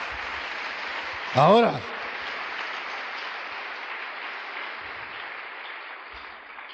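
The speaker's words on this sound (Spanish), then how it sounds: "Démosle palmas al Señor" A church congregation applauds in a steady, dense wash of clapping that carries through the whole stretch, with a brief spoken word from a preacher near the start.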